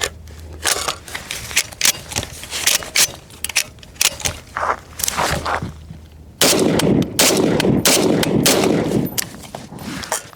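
An FAL rifle fitted with a Picatinny stock adapter fires the last rounds of its magazine in a rapid string of sharp, loud shots, each a broadband crack with brief pauses between, followed by a burst of closer rustling noise.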